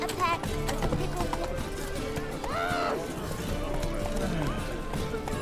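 A horse galloping in The Witcher 3, rhythmic clip-clop hoofbeats running steadily throughout, loud and close, with a rider's voice and other game sounds layered on top.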